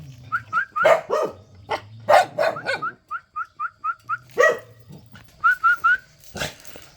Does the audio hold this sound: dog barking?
yes